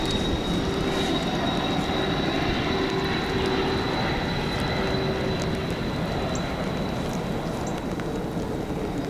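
Airplane engine drone rumbles steadily and loudly overhead near an airport, a constant broadband roar with a faint tonal whine, heard outdoors on a rainy day by the water with no talk.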